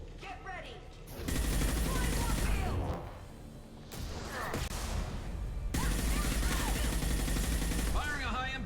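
Gunfire in the Mass Effect 2 shooter game: loud bursts of rapid shots and heavy blasts crash in waves, with short lulls between volleys and brief high sweeping effects.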